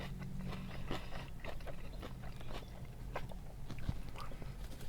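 Crunchy bites into a buffalo chicken wrap with grilled chicken and croutons, close and quiet, with steady crackling chews and scrapes repeating throughout.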